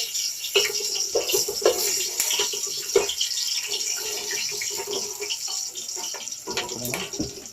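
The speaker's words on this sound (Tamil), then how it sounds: "அந்த பிரியாணி இலை இதை ஃபஸ்ட்டு எண்ணெயில் போட்டுருங்க கிராம் வந்து வெடிக்கும்" Close, steady sizzle of cloves and bay leaf frying in hot oil, broken by scattered crackles and pops, with occasional faint voice in the background.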